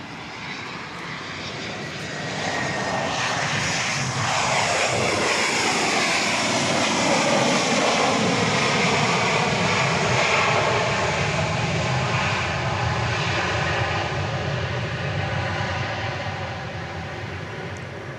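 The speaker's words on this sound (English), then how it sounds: "There's a flight coming in from San Antonio, Texas. Flight 1330, 737-700." Southwest Airlines Boeing 737-700 jet arriving at Dallas Love Field at night, a sustained loud engine roar that builds within the first few seconds, holds steady, then eases slightly at the end, with no voices.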